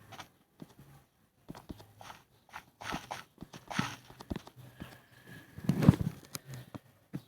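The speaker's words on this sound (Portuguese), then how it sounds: "Olha, ele tem um cavalo." A horse moving about nearby, its hooves giving irregular clip-clop knocks and scuffs, with occasional louder thuds and a faint background hum and no talk.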